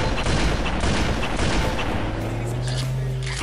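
Gunfire and explosions in the online shooter Halo: Custom Edition, dense loud continuous bursts and booms with a droning tone underneath.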